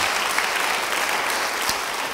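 A congregation at a church service applauds together, a steady, full wash of clapping that holds at an even level for about two seconds with no talk over it.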